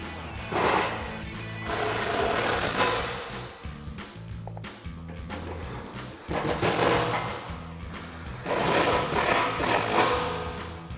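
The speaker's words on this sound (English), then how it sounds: "Grab our impact, extension, and socket and tighten them down." An impact wrench with extension and socket runs down the bolts of a Rough Country 3.5-inch bolt-on suspension lift on a Toyota Tacoma, giving repeated close, rattling bursts that stop and start across the clip.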